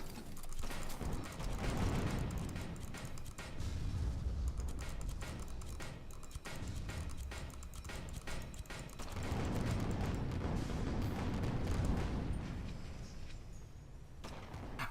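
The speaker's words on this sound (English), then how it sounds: "as a gunner, you obviously have to fire the guns" Airship guns fire in the online game Guns of Icarus Online, a dense run of rapid mechanical clattering shots and ratcheting reload sounds, loud and close with rumbling swells.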